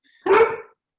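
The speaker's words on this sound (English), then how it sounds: "I have the dog barking also." A single dog bark, close and loud, sounds once over otherwise quiet background during an online Japanese lesson, with no talk over it.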